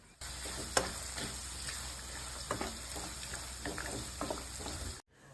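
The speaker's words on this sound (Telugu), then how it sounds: "ఆనియన్స్ని లో ఫ్లేమ్లో ఇలా బాగా ఫ్రై చేసుకోవాలి." Onions fry gently with salt over a low flame for Telugu coconut rice, a soft, even sizzle with occasional light taps of a spoon, ending abruptly.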